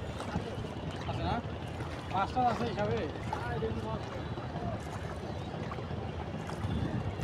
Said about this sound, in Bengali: নৌকায় যাইতেছি আমরা সবাই।